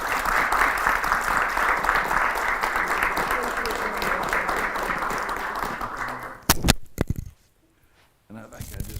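A school board meeting audience applauds the board, steady clapping from a room of people for about six seconds before a few loud handling knocks and a sudden drop to near silence.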